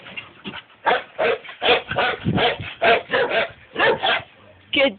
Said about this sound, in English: Good dog. Good boy.